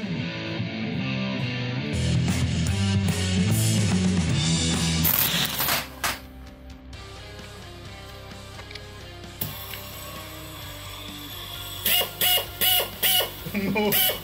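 Chinese pneumatic shears from AliExpress, just reassembled, run with a loud rattling mechanical clatter in short bursts, followed by rapid tapping pulses near the end.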